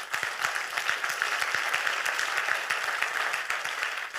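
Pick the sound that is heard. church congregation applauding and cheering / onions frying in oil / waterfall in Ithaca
church congregation applauding and cheering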